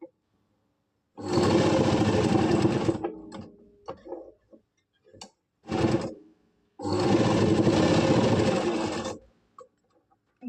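Sewing machine stitching a kameez seam, with two long steady whirring runs of about two and three seconds and a short burst between them, plus small handling clicks in the pauses.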